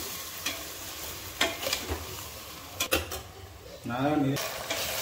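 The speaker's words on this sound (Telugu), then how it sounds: "మధ్య మధ్యలో ఇలా తిప్పుతూ ఉండాలి, కిందకి అడుగంటకుండా." Vegetables, tomato and drumstick stirred in a pot for sambar, a low sizzle broken by scraping ladle strokes and metallic clinks against the pot, with a brief voice near the end.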